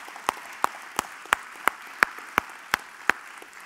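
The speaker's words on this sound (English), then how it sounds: "Let's give them a round of applause." Sparse, evenly spaced claps from a church congregation during an Easter Sunday service: about nine crisp single claps in a steady rhythm over a quiet room, with no talk.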